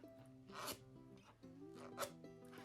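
Ginger being scraped off the surface of a honey syrup, giving short raspy scraping strokes in a few bursts, close and fairly quiet, with a faint tonal hum underneath.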